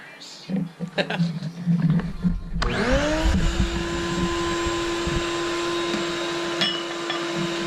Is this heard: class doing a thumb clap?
no